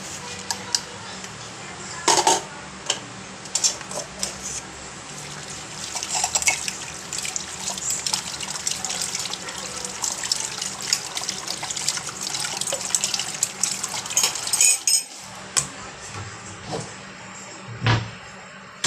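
Running tap water splashing into a sink while dishes are washed by hand, a steady close rush with intermittent clinks and knocks of dishware and brief changes in the flow.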